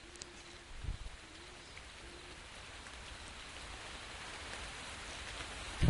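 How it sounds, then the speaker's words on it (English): Steady rain pouring from an umbrella art installation on a university island in the Second Life virtual world, a continuous dense hiss that builds gradually louder throughout, with a brief low thump near the start. "if we walk into the rain here, it'll get louder"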